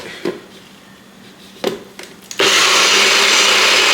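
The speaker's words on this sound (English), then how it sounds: "Got it in our blender. We're just gonna blend it up so it can have a smooth consistency." Blender switching on to purée a hot simmered peach bourbon sauce, a loud steady whirring roar after a few knocks and handling clatters.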